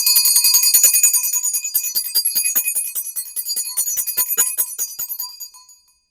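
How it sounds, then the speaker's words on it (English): A bright bell rings repeatedly, its shimmering metallic tones overlapping and slowly fading out near the end. "And my mom's bell."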